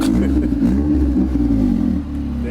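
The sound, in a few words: car engine revving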